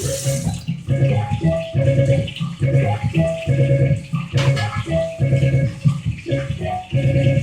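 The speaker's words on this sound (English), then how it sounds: "so that I can wash this fork and" Water runs from a kitchen tap while a fork is washed, a steady splashing stream with rhythmic clinks and changes as the utensil moves under it, fairly close; a voice speaks over it.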